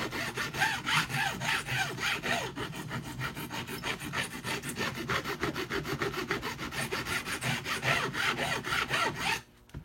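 Steady back-and-forth rasping of a long abrasive block drawn across guitar frets, close and fairly loud with a regular stroke rhythm that stops abruptly near the end.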